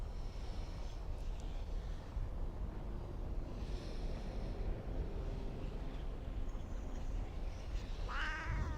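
An attention-begging house cat meows repeatedly at close range over a steady background hiss, with a sharper, rising cry near the end.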